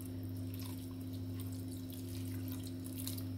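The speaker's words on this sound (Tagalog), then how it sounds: "Tapos lagyan natin siya ng konting tubig para siya ang magluluto sa sa isda." Water runs steadily into a pan of mackerel fish being cooked, a continuous close splashing pour with a low steady hum underneath and no talk.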